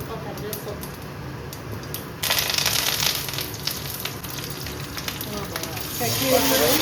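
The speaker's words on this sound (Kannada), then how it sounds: "ಇದು ಟೊಮೊಟೊ ಚಟ್ನಿ ಒಗ್ಗರಣೆ ಸ್ವಲ್ಪ ಸಾಸಿವೆ, ಒಗ್ಗರಣೆ" Mustard seeds sizzle and crackle in hot oil as a tempering for tomato chutney, a steady loud hiss that grows harsher partway through and swells near the end.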